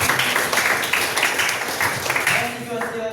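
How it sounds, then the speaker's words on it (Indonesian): Students at an Indonesian school assembly clap together after reciting the Pancasila, a lively burst of hand claps mixed with voices and chatter from the group. "semua tepuk tangan buat kita"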